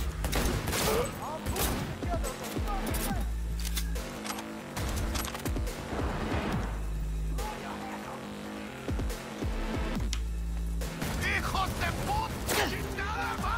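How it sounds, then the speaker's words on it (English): Gunfire from the video game Cyberpunk 2077: bursts of rapid shots and combat effects repeat through the scene, loud and dense over a steady game soundscape. "How are they shooting me here?"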